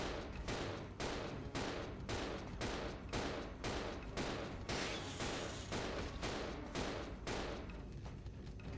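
Rapid, evenly spaced gunshots from Resident Evil 0 fire off in a steady rhythm, about two per second, loud and close with no talking over them.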